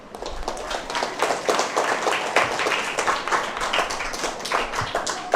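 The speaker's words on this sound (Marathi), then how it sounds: "त्या नवले मॅडम त्यांच्यासाठी एकदा टाळ्या वाजवा" An audience at an abacus education event claps, many hands together in dense, steady applause that holds for several seconds.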